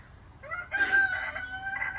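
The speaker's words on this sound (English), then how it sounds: "You can hear the rooster in the background." A rooster crows in a yard outdoors near a cherry tree, one rising, harmonic cock-a-doodle-doo call, fairly faint and somewhat distant, with no one speaking.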